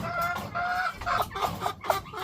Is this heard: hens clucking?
yes